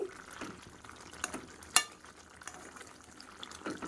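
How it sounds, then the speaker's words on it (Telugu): Coriander is stirred into a kaju makhana curry, with a spoon scraping and tapping the pan in uneven strokes, one sharp clack standing out, and a faint sizzle underneath. "సో కొత్తిమీర అయితే వేసేసుకుని నీట్గా మిక్స్ చేసేసుకుంటున్నానండి"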